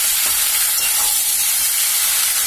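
Masala fries in a hot pan for a pumpkin and green pea sabzi, giving a loud, dense, continuous hiss and sizzle that stays even throughout, with faint stirring underneath and no voices.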